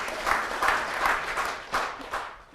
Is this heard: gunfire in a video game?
no